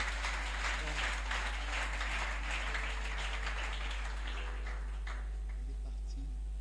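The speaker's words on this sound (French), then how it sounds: "Acclamez très fort pour le Seigneur." A church congregation applauds loudly for the Lord at a French-language prophetic service, a sustained dense wash of clapping that fades toward the end, with a voice speaking over it.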